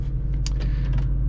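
A 1998 Ford Mustang Cobra engine rumbles low and steady from inside the car while driving, a brief, continuous drone with faint mechanical creaks.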